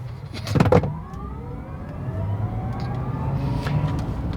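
A Tesla electric car accelerating hard from inside the cabin, a rising high-pitched electric motor whine climbing steadily over road rumble, with a thump near the start.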